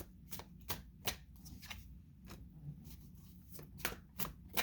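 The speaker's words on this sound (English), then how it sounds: "I shuffle in front of you" Tarot cards being shuffled in quick riffling bursts, crisp and close, with short pauses between flurries and no talking.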